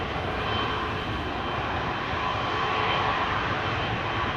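An Etihad Cargo jet departs Amsterdam Schiphol Airport, its engines making a steady, loud broadband roar that holds level and continuous throughout with no voices.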